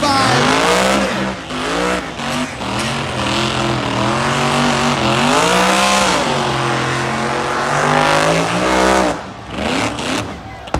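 A turbocharged LS-engine truck revs hard against the rev limiter, a loud, sustained roar whose pitch wavers up and down, dips briefly, then holds high again throughout.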